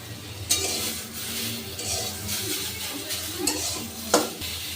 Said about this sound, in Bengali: এই দেখুন লাউ পাতাগুলো খুব ভালো করে ভাজা হয়ে গেছে।